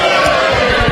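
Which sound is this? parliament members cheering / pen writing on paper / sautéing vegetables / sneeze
parliament members cheering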